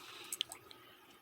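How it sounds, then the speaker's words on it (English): Water goes into a frozen aquarium mold with a few faint, close drips and splashes in the first half, then quiet. "So as usual, we're going to add our water."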